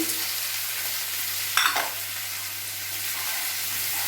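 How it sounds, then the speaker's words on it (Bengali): Carrots and beans fry in hot oil in a kadai, a steady close sizzle with one brief scrape of stirring partway through. "তেল দেওয়া হয়ে গেলে আমি এক এক করে গাজর দিয়ে দেবো, বিনস দিয়ে দেবো।"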